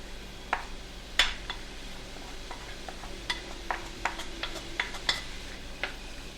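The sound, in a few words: chopped onions sizzling while frying in a pan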